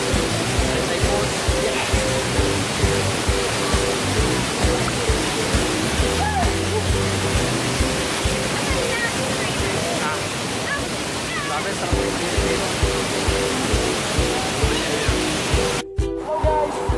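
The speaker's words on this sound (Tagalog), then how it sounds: "Dapat nandito ako ngayon sa Taytay Falls." Taytay Falls waterfall in Majayjay, Laguna, a loud, steady rushing roar of falling water heard up close, with a person speaking briefly over it.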